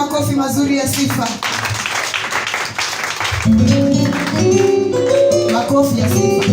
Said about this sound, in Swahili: Piga makofi mazuri ya sifa.